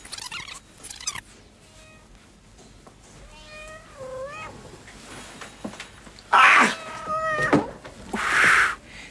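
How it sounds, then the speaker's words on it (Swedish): A cat meows in a 1987 Norwegian film, giving several loud, wavering cries close by, with people speaking in Swedish between the calls. "Vad är det där? Katten."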